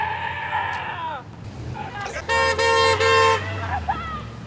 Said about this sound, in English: Honk for Jesus! Honk!